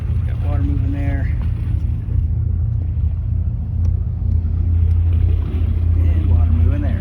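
Boat engines of the vessel Thirsty Whale idle during haul-out with a loud, steady low rumble throughout, while a voice speaks briefly over the drone.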